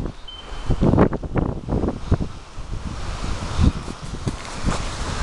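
Gusty wind outdoors beside a middle school soccer field on a breezy day, rumbling and buffeting the microphone in uneven bursts, with no talking.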